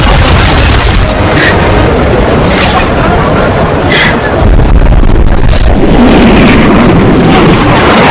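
Loud, dense sound effects from an action movie battle against a giant lizard attacking a city, with booming explosions and rumbling blasts layered continuously throughout, close and overwhelming.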